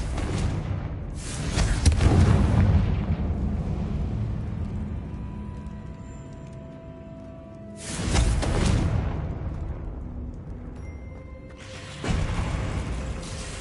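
Bombarda and Confringo spell blasts in the Hogwarts Legacy video game: a heavy booming burst near the start, then two more loud blasts later, separated by quieter stretches of ringing tonal game effects.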